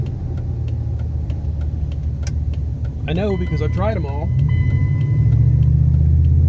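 2001 Ram 1500 with a 5.2 engine idling with a steady low rumble throughout, growing a little louder near the end, while someone talks over it close by.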